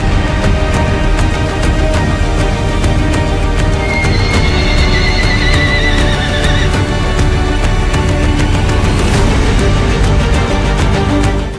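A Crioulo stallion at an equestrian show arena gives one loud whinny partway through, heard over a constant loud noisy background with faint hoof clatter.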